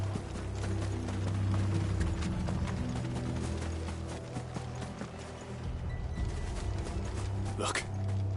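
Horses' hooves clip-clop in Final Fantasy 16 gameplay, a quiet, steady clatter mixed with mechanical rattling and other game sounds beneath the action.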